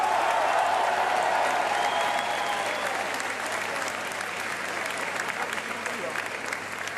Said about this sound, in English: Thank you for having applauded them just now.